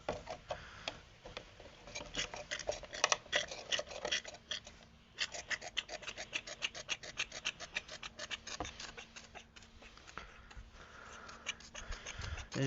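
An old MTD 46 SPB lawn mower has its stale fuel drawn out by a hand pump, giving quick, rhythmic plastic clicks and rasping strokes close up, with short pauses between bursts.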